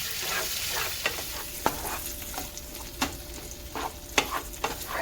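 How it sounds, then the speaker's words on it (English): Sun-dried and diced tomatoes sizzle steadily in a pan, a soft continuous frying hiss broken by a few light stirring scrapes, with no voices. "I'm adding my diced tomatoes. I'm going to let this cook for about 5 minutes."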